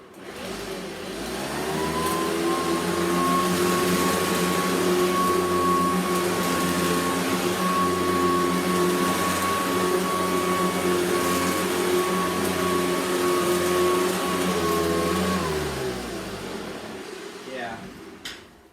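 Hoover Decade 800 Heavy Duty upright vacuum cleaner switched on, running at a loud, steady droning whine with a constant tone for about thirteen seconds, then winding down to stop, no talking over it.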